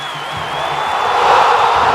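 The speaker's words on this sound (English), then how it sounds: "We're hearing from the crowd. They ain't boos." A WWE 2K wrestling arena crowd roars in a loud, sustained wash of cheering and whooping that swells toward the middle and holds steady to the end.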